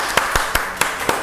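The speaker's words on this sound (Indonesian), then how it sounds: "Wih, tepuk tangan lu dong." Five slow, evenly spaced hand claps ring out against a steady hiss of background noise during a bank promotion show, each clap crisp and close, with no voices.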